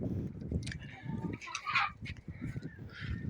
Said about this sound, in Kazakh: Міне тауық қораздар.